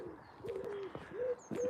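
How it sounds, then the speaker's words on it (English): Soft, low cooing from a wood pigeon repeats a few times, with faint chirps from other birds in the quiet background, by the Tweed riverbank in the Scottish Borders. "wood pigeon"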